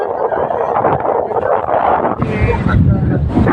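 Strong wind buffets the microphone at the seaside in Atimonan, Quezon, a steady loud roar through the whole stretch, with a broader gust in the second half and faint voices mixed in.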